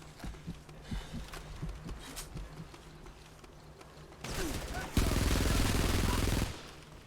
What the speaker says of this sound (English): time for close quarters combat with a super inaccurate assault rifle